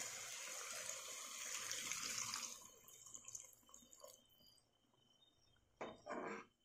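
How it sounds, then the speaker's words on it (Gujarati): Water is poured into a pan of cluster bean gravy curry as it cooks, giving a splashing rush for a couple of seconds that fades into scattered small drips and clinks, then a brief final burst. "હવે આપણે એમાં પાણી નાખીશું ચડવા માટે કવાસીનને"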